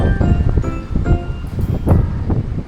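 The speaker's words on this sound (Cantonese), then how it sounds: "咁啊呢啲叫陣風啦" Strong, irregular wind gusts roar and surge continuously against the microphone, with rough rushing noise swelling and easing every second or so.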